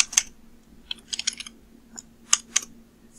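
Computer keyboard typing in short bursts of crisp clicks, a few quick keystrokes clustered with pauses between, close and fairly quiet against a faint steady hum while code is filled in for a Unity touch joystick controller.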